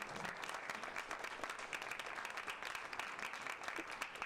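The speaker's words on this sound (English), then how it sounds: "So let's give Jason a round of applause." Steady, even applause from an audience at a startup event, a continuous dense wash of many hands clapping throughout, moderately distant, with a faint voice briefly underneath.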